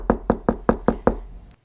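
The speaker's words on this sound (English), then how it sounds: "knock on his door" Six evenly spaced knocks on a door, sharp and close, ringing out in a quick steady rhythm before stopping.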